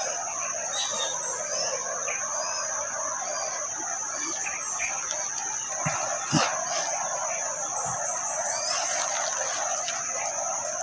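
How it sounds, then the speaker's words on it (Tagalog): A rooster crows with other fowl calling from a rural yard, steady outdoor bird chatter and a constant high insect or electrical whine throughout, with a couple of brief thumps in the middle. "Boses ng ibon at tingkaran"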